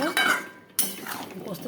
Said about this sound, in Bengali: এখন একটু ভালো করে এটা কষাবো